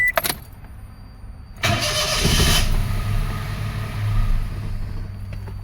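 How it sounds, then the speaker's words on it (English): A 2005 Toyota Passo fitted with a replacement ECU cranks over with a short whir of the starter, catches, then settles into a loud, uneven idle. "And we start the car."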